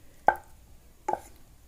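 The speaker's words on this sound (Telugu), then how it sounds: "కొద్దిగా దంచుకుంటా ఉంటే బాగా మెదిగిపోతుంది" Tomatoes and tamarind are pounded in a stone mortar, two distinct dull thuds about a second apart, close and alone.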